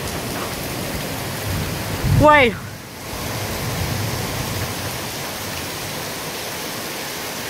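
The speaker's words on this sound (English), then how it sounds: "Look how much rain." Heavy rain pouring down and flooding, a dense, loud, steady hiss of downpour throughout, with a brief spoken word partway through.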